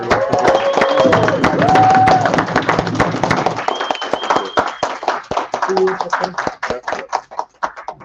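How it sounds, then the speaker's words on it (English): An audience at a live summit gives a round of applause, dense clapping mixed with crowd noise and a voice over it at first, then thinning into scattered individual claps as it dies away. "Give Jose a round of applause"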